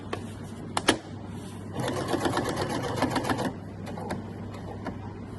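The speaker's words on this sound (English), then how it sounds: "you could do 2 rows of stitching just to make the pocket even stronger" A sewing machine stitching along an apron pocket edge: a short click and thump, then a close, rapid mechanical chatter of stitching for about two seconds, followed by a few isolated clicks as the needle stops.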